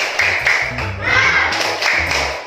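A group claps a rhythmic spirit clap in a classroom exercise, several bursts of strikes in patterned time, with children's voices chanting over them.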